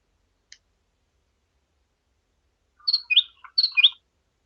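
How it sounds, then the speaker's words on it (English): Several bird chirps and tweets in quick bursts, clear and alone after a single faint click, heard during a tabletop role-playing game session. "Is that you with the bird noises?"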